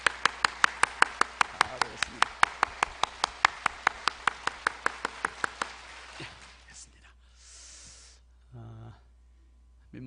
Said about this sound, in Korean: 뜨겁게 박수하겠습니다